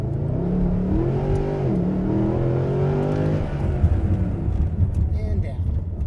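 A Mercedes SLS AMG Gullwing accelerates hard from a launch, its engine note climbing steadily through the revs and sounding loud and close, with a shift or lift near the end and occasional talk inside the car.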